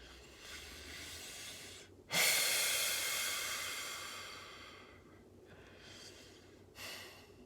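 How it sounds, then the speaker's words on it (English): Deep meditative breathing close to the microphone, with a soft breath, then one long loud exhale that slowly fades, followed by two shorter breaths. "I'm gonna start taking a breath in more of my videos"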